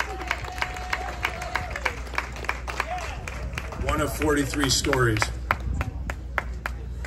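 An outdoor street-fair audience claps for Elizabeth Monterrosa, with a spread of scattered hand claps running steadily under someone speaking and crowd murmur.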